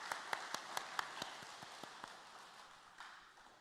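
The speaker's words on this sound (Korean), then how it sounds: "또 임마누엘 찬양대에게는 격려를 다 박수하겠습니다." A church congregation claps for the choir, starting with a handful of sharp, scattered claps that quickly thin out and fade into quiet room tone.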